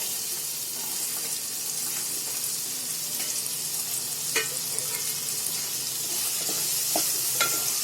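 Chopped onion frying in hot oil in a pan for a crab curry, a steady close sizzle throughout with occasional scraping clicks of stirring and no talking.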